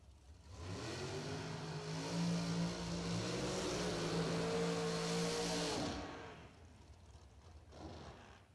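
Drag racing cars launch in a quarterfinal shootout at a drag strip, a loud engine roar rising and holding for several seconds before cutting off, with a fainter engine afterward.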